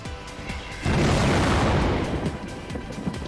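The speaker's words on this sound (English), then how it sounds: "Explosion." A massive special-attack explosion in the Iwaihime visual novel, a sudden loud boom that bursts in after a quieter stretch and rumbles on as a long, noisy roar before easing back down.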